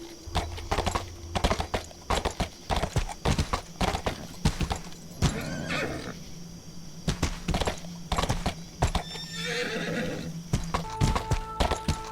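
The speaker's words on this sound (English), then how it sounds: "I got back on my horsey and found some mountains to climb" Horse hooves clip-clop in a fast, steady gallop with repeated loud whinnies and neighs close by, mounted in the medieval combat game Mordhau while climbing steep mountain slopes.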